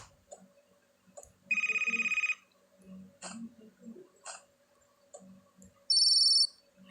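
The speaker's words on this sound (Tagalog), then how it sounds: "May tumatawag." A telephone rings twice with an incoming call: two short bursts of bright, tonal ringing, near and fairly loud. Quiet rustling and faint background noise sit between the rings, and no one speaks.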